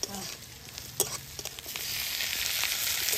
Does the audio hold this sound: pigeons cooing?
no